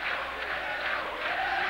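Stadium crowd at a Brazilian championship football match, celebrating São Paulo's title, roaring and applauding in a steady, distant wash of noise with no distinct voices.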